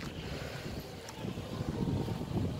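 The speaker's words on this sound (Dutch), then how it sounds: "En hier is het wel winderig." Wind blowing outdoors on a chilly street, a steady rushing roar with low buffeting gusts hitting the microphone, growing slightly stronger toward the end, with no talking.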